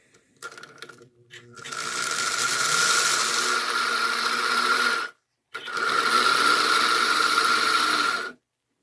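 The electric motor of a restored Marx 999 toy train runs with a steady, buzzing mechanical whir and gear chatter for several seconds, stops briefly, then starts again and runs before cutting off, preceded by a few small clicks.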